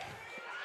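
Grambling State University athletes cheer from the stands at an indoor track and field championship, a loud, continuous crowd roar of shouting voices close by.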